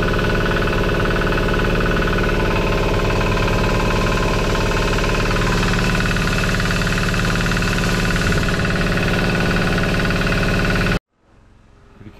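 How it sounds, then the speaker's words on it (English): Diesel engine generator running at raised throttle in a backyard, a loud, steady mechanical drone with a rapid knocking pulse and belt vibration, cutting off abruptly near the end. "I'm gonna go give it some more throttle real quick."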